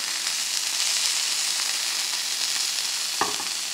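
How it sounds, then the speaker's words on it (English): Burger patty browning on its second side in an oiled pan on the stove, a loud, dense, continuous sizzle with one brief knock of a utensil near the end. "And now what we're trying to do is brown that other side."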